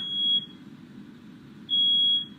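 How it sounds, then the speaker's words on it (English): A smoke alarm in a bedroom chirps in two loud, sustained high-pitched beeps separated by a pause, over a low background rumble. "somebody do something about that smoke alarm"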